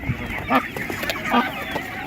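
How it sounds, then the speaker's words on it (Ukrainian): Duck at an animal market, an Orvia breed bird already partly grown, giving a couple of short honking calls about a second apart, fairly close over a busy market background. "Ось така гарна качка є."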